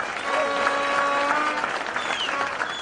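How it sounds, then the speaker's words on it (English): An audience at a Kenyan political gathering applauds UDP party delegates with steady, dense clapping that holds loud and even throughout, with some cheering mixed in. "We need to give you a big, big clap."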